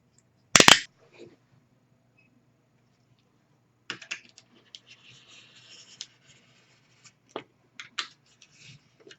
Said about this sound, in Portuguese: eu prefiro cortar, tirar com o alicate